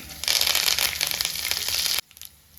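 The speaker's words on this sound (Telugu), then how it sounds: "కొంచెం కరివేపాకు వేసుకోండి" Dense crackling and sizzling of curry leaves and garlic hitting hot oil for tempering, loud and close, with sharp pops for about two seconds before dropping to a faint hiss.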